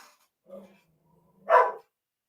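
A soft yip, then a single louder bark from a nearby dog, with quiet pauses around them.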